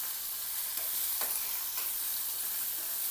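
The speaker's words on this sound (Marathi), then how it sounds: "पाट्यावर वाटलेले मसाले टाकायचे आणि मसाल्याला छान भाजायचं तेलामध्ये" Ground spice masala stone-ground on a grinding slab, frying in oil and stirred, a steady bright sizzle with a few quiet spatula scrapes, close and fairly soft.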